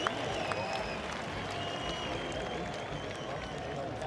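Stadium crowd at a football match between FC Bayern and a fan club, a steady wash of applause and cheering filling the background, moderately distant, with a commentator's voice over it.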